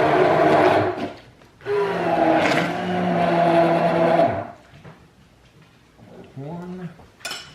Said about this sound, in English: I like using my immersion blender to blend them up.